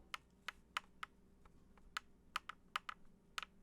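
A gaming keyboard's key is barely pressed, giving a series of faint, sharp clicks at irregular intervals in a quiet room, with a bad, rattly quality.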